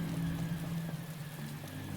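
Rain falling on a battlefield in Star Wars: Empire at War, Awakening of the Rebellion mod, a steady soft patter under a low continuous hum, fairly faint and even throughout, with no voices.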